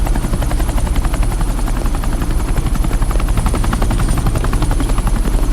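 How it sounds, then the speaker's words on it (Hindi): A helicopter coming in to land on an airport tarmac makes a loud, steady, rapid rotor chop with a constant engine whine, close and continuous throughout. "ये हेलीकॉप्टर सीधे एयरपोर्ट के टारमैक पे लैंड होगा।"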